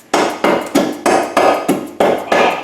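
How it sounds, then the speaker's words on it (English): Seven sharp, hard blows from an 8-ounce plastic hammer strike an Audi A4 front suspension part in a steady rhythm, each a loud, close impact with a brief ringing decay. "This is a 8-ounce plastic hammer."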